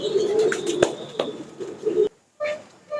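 Soft, low cooing of Rampuri pigeons nearby, murmuring continuously with a few sharp clicks, then a brief pause and more cooing.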